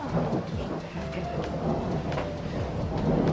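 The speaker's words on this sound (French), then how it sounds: "Ça va, il est pas trop fort l'orage." Steady heavy rain with a deep, continuous rumble of thunder throughout, loud and enveloping, no voices.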